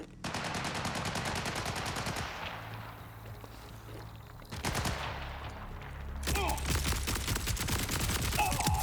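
Rapid automatic gunfire from a Torque weapon in the video game Borderlands 4, loud sustained bursts with brief pauses and a heavier blast midway, continuing densely to the end.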